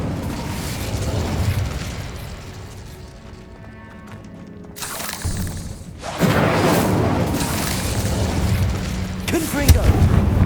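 Incendio fire spells erupt in Hogwarts Legacy amid loud booming blasts and roaring, crackling bursts, several in sequence with a brief lull between them, as continuous game combat noise fills the background.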